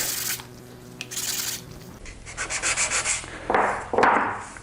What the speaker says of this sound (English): So a few more passes on the sanding block get me the fit I'm after